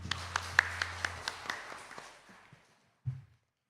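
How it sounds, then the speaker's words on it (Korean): Church congregation clapping during a Sunday worship service, a run of sharp claps that thins out and fades, followed by a brief low thump near the end. "주님께 영광의 박수 올려드립니다."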